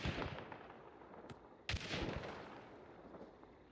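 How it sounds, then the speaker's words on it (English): Shotgun in a video game firing custom firework-like ammo shells: a couple of sharp cracking blasts with crackling, spreading tails, loud over a busy rumbling background. "It's almost like shooting fireworks from your shotgun."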